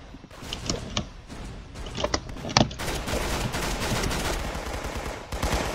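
Candy cane minigun firing in the Roblox Arsenal video game, a rapid rattling stream of shots with a few sharper bursts at the start, then continuous loud fire for several seconds.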